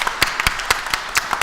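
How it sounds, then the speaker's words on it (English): An audience applauds a futurist speaker at a talk, with a few loud, close individual claps at an uneven rhythm over a short burst. "Can we give Shara a round of applause"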